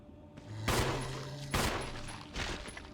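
Gunshots ring out in the video game Resident Evil 1: three loud, sharp blasts about a second apart, each trailing off in a short ring, with no voices.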